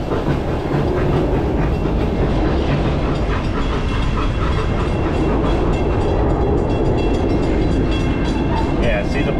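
A train rumbles past near a roller coaster at Busch Gardens, a close, loud steady rolling roar with rhythmic rail clatter lasting throughout.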